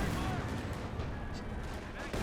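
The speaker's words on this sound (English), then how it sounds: "It's a strafing run by the Axis." An Axis strafing run in Company of Heroes 2 makes a dense, muffled, continuous rumble of gunfire and booms. The roar stays steady and fairly quiet, with a voice faintly mixed in beneath it.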